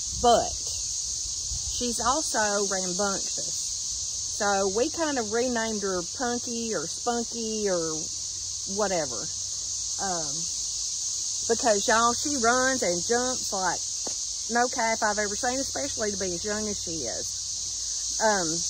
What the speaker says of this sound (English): The background noise you're hearing is the cicadas.